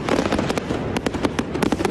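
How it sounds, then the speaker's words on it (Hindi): Firecrackers bursting during a night celebration in eastern Ukraine, a dense run of sharp cracks and pops at uneven intervals, fairly close and continuous, with no talk. "जश्न में डूबे लोग पटाखे फोड़ने लगे"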